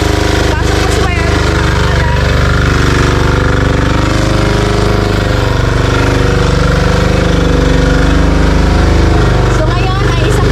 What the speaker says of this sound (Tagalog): So ngayon ay isang generator lang muna yung ginamit.